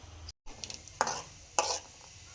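Peanuts fry in oil for North Karnataka girmit street food, giving a soft background sizzle broken by two or three brief scraping stirs. The sound is quiet and close, with no talking.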